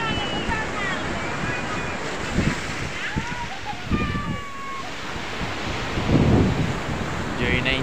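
Loud sea waves roll and crash continuously, with wind buffeting the microphone and brief bursts of distant voices of children at the beach.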